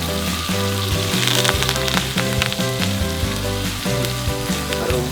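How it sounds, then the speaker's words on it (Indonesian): Ground spice paste with turmeric, ginger and lemongrass sautés in oil, a loud steady sizzle and crackle running throughout with no voices, while a busy background hum carries on underneath. "Tumis bumbu yang sudah dihaluskan"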